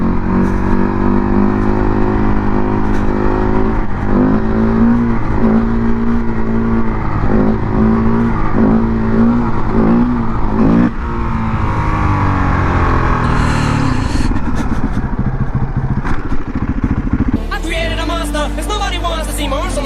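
A Husqvarna 510 SMR supermoto motorcycle accelerating through the gears on a ride, loud and close, its engine note climbing in pitch, then dropping at upshifts before rising again, with wind buffeting throughout.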